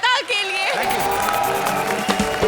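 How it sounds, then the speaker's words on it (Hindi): A studio audience at a Hindi comedy show breaks into loud, dense applause and cheering with scattered whoops, following a host's voice at the start. "जोरदार तालियां हो जाए कपिल और श्वेता के"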